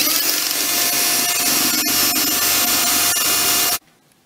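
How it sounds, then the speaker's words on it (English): A power drill with a 3/32 bit whines loudly and continuously as it bores through metal rivets on a Gibson Gen 2 latch, with a few brief snags, then stops abruptly. "We're gonna start with the 3/32 drill bit and just drill this out."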